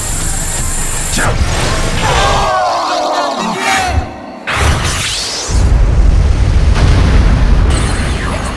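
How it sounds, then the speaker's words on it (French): Nebula Explosion special attack from the Saint Seiya PS2 game, a loud dense burst of explosive rumble and sweeping effects with crowd-like roaring, swelling toward the end and staying loud throughout. "Explosion nébulaire!"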